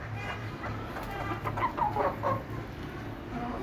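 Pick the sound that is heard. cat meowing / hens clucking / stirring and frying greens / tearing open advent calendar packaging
hens clucking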